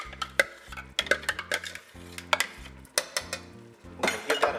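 A spoon scrapes and knocks rhythmically through Jamaican beef patty filling in a pot as a soaked bread mixture is worked in, giving repeated close clinks and a faint sizzle underneath.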